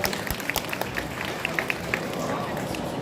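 An audience at a fan convention in Le Mans claps, with a patter of hands and scattered sharper claps that thin out over a few seconds, while murmured talk continues underneath.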